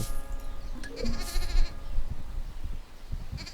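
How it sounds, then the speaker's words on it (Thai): Sheep mount in the cute fantasy mobile MMO LUNA Mobile gives a few short, bright bleats near the start, over soft game background sounds and faint low rumbles, with no talking. "แล้วตอนนี้เราก็มีน้องแกะมาขี่แล้วนะครับ"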